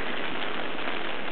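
Rain falling steadily on a large umbrella during flooding, a dense even patter with no voices, moderately loud and close.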